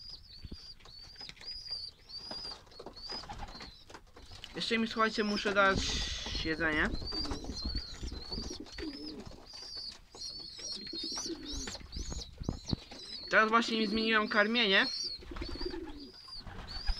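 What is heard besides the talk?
pigeons cooing and flapping in a pigeon loft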